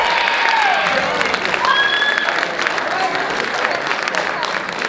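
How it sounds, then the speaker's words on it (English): A crowd at the Mr. NHS 2017 show applauds its two MCs, a dense wash of clapping and cheering with a few whistles, while voices carry over it. "Huge round of applause for them, please."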